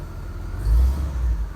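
The engine of a 1965 Oldsmobile F-85 Cutlass runs after a cold start. It produces a low, steady rumble with a brief swell as the revs rise, then settles back to idle, with no voices.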